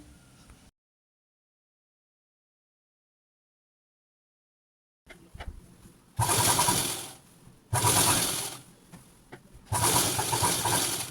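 A domestic sewing machine stitching a folded one-inch hem on fabric for palazzo pants, running in three loud bursts of steady whirring after a short quiet start and a long silent gap.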